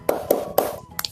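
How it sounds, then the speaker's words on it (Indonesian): A class performs a rhythmic spirit clap in an online lesson, three hand-clap bursts at an uneven beat followed by two sharper taps, close and clear, with a voice faintly present underneath. "Anak-anak, sebelum itu kita tepuk semangat dulu ya, biar membangkitkan semangat kita."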